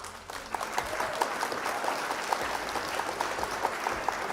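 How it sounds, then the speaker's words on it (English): A crowd applauds in a steady patter of many hands clapping, moderately loud and even throughout, with no voices over it. "Round of applause for Silent."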